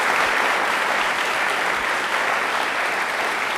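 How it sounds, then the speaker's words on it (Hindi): An audience claps for a guest in a studio general knowledge quiz show, a dense, steady burst of applause that stays loud and even throughout with no talking over it. "प्लीज़ एक बार जोरदार तालियां हो जाए मैम के लिए"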